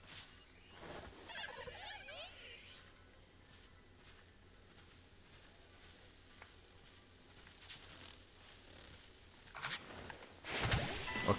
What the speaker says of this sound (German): Oh, da gibt es noch ein paar Bienen.